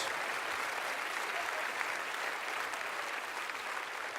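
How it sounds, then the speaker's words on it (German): Audience applause at a carnival comedy show, dense and steady clapping filling the room for several seconds, fairly even in level. "Gebt ihm ein bisschen einen Applaus."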